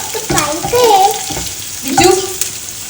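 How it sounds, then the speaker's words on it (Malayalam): Food sizzles while being sautéed until brown in a pan for curd rice, with scraping stirs under brief, close voices. "നല്ലതുപോലെ ഒരു ബ്രൗൺ ഷെയ്ഡ് ആവുന്ന വരെ ഇതൊന്ന് വഴറ്റിയെടുക്കാം"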